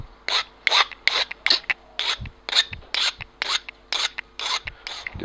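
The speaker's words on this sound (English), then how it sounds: "using a little countersinking tool here to get rid of the sharp edges on the inner surface" A small countersinking tool rasps around the inner edges of a model wing part during a dihedral wing build, a string of about a dozen short scraping strokes in a steady rhythm, close and fairly quiet with no talk.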